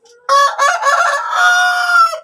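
A sick chicken with the ngorok respiratory illness gives a loud, close, harsh crowing call that lasts nearly two seconds after a brief faint sound.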